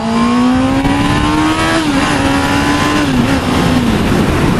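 A 2019 Honda CB650R, a 600cc naked standard motorcycle, revs loudly and close up as the throttle is blipped during downshifts, the engine note rising and then dropping in pitch over a steady roar.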